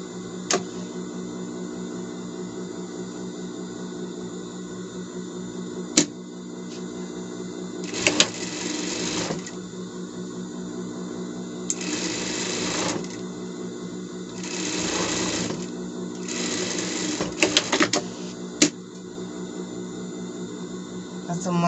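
Sewing machine stitching a seam on a fabric bed bumper, running in several short bursts of rapid mechanical whirring separated by pauses, close and clear over a constant background hum.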